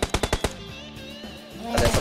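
Bursts of FAMAS rifle fire from PUBG Mobile: several rapid, loud shots at the start, a stretch of quieter game ambience, then another dense burst of gunfire at the end.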